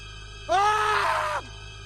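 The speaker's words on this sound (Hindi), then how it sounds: "अचानक उनको पीछे से सचिन की खौफनाक चीख सुनाई देती।" A terrifying scream in a village horror story: a single sudden, loud, high wavering cry that lasts about a second, then cuts off, with no talk around it.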